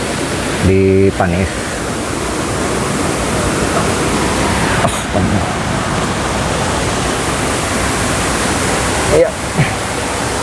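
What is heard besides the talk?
Curug Paniis waterfall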